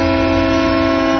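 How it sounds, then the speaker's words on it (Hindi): A train whistle blows as one loud, steady, sustained tone with strong harmonics, unbroken for over a second, with no voices over it. "ट्रेन की सीटी बच के तुम जाओ।"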